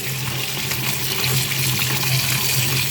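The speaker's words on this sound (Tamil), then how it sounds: "நல்லா கழுவிடுங்க" Sweet potatoes washed under a running kitchen tap, with water pouring steadily and loudly and splashing close by the whole time, and no talk.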